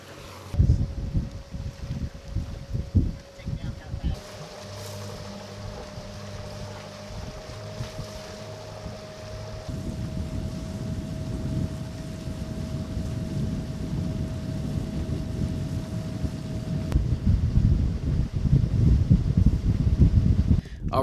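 Steady wind blowing across a sailboat anchored in a small cove on the Chesapeake, a continuous rushing noise with a faint steady hum, growing a bit louder toward the end.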